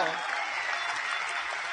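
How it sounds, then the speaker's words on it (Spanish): Audience applause for Tim Pauli at a Spanish-language church gathering: a dense, steady wash of many hands clapping, fairly close, with no talk over it. "Aquí estamos con Tim Pauli, un aplauso"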